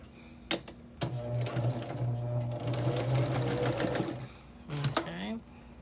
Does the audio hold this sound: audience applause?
no